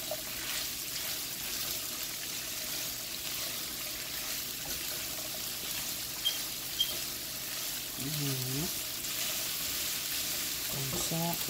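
Zucchini and asparagus fry in a pan with a steady, dense sizzle throughout, joined by occasional stirring scrapes and brief clicks near the end.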